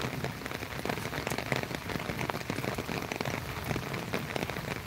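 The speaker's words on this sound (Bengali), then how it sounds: "বৃষ্টি" Heavy rain falling outdoors in wind, a dense and continuous close patter of drops striking a surface, with no voices.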